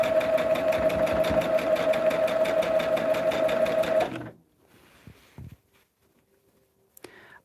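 A sewing machine runs steadily for about four seconds, stitching a border onto a 42-by-42-inch blended fan quilt, then stops, leaving a quiet room with a few faint handling clicks and rustles.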